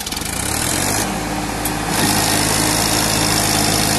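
A Sonalika 60 RX tractor engine labours under load while pulling a plough through a field, a loud, steady diesel drone with a rhythmic low throb throughout, close and continuous.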